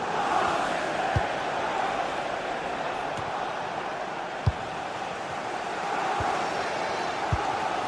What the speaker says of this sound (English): just listen to this crowd. They want a bit more.